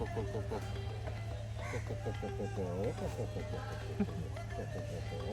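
Chickens cluck repeatedly on Prison Island, Zanzibar, in a busy outdoor setting, with rooster-like calls over a steady hum of background noise throughout.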